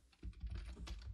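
A quick, soft burst of keystrokes on a computer keyboard while coding a .NET 6 Web API, several close taps in fast succession, quiet and alone.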